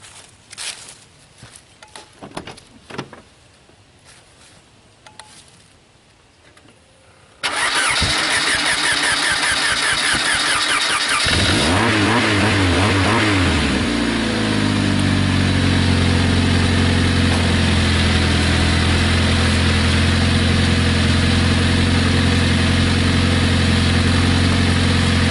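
A car engine cranks and catches after a jump start from a Noco GB70 portable jump starter, then settles into a steady, loud idle that runs on continuously, following a few quiet handling noises.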